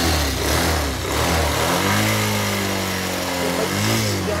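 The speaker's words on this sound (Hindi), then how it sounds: "मेरे बजाज में बहुत वाइब्रेशन है।" A Bajaj Pulsar 220F idling while parked, with a steady low engine hum and buzzing vibration close by and a brief rise in pitch early on before it settles into an even idle.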